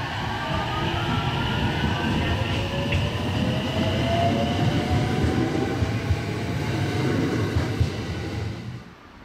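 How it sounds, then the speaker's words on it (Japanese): A local train runs fast on the Hokuriku Main Line toward Fukui, heard from inside as a steady, loud rumble of wheels on rails with faint rising motor whine, fading at the very end. "列車は福井駅に向けて快調に走っていきます。"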